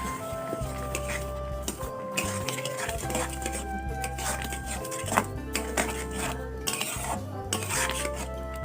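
A spoon stirs and scrapes hog plum chutney in a pan with repeated rubbing, clinking strokes. A low steady hum runs beneath and there is no talk.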